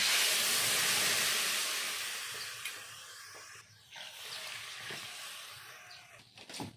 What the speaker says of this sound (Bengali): এখন দিয়ে দেবো পরিমাণ মতো জল